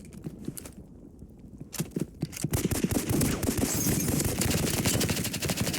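Gunfire in a Roblox video game crackles in dense, rapid bursts, sparse at first and then building into a continuous loud fusillade of overlapping shots.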